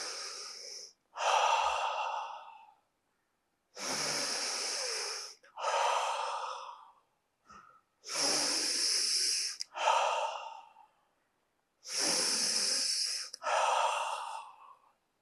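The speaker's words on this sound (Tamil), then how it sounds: "மூக்கில் ஃபுல்லாக சுவாசம் இழுத்துட்டு வாயில வெளியில் விடணும்." Deep, slow breaths are drawn in through the nose and pushed out through the mouth, about five close, audible cycles separated by quiet pauses, with no talking.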